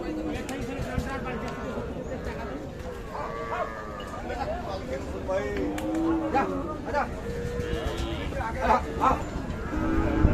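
Sahiwal cattle moo repeatedly amid a noisy crowd at a cattle market, with people talking loudly throughout and the lowing rising over the chatter several times.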